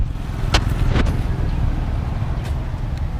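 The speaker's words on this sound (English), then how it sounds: "A lot of traffic." Street traffic passes in Consolacion, Cebu, with a steady low rumble of car engines and a couple of brief closer whooshes of passing vehicles, no talk.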